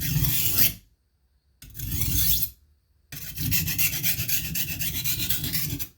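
A knife blade scrapes harshly back and forth on an oiled Norton India combination sharpening stone in three gritty strokes, the last one long, with short pauses in between.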